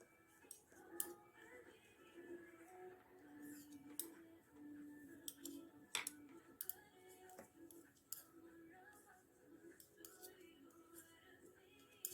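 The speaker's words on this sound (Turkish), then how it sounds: "ikinci doladığımı da kesiyorum" Scissors snip knitting yarn while a buttonhole is being worked, giving several sharp, faint clicks and cuts scattered among soft handling rustles, with a few quiet words spoken.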